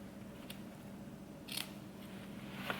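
Scissors snip through swimsuit fabric in a few brief, quiet cuts at close range, with a soft rustle between the snips.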